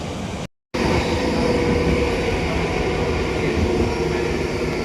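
Steady rumbling roar of a moving train near Panskura, West Bengal, with a brief dropout near the start, continuous rail noise throughout and no talking.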